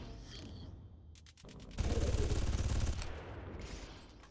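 Gunfire in the first-person shooter Far Cry 1, with rapid mechanical clicks and a weapon swap leading into a dense, loud burst of automatic fire lasting about a second, then continuing combat noise.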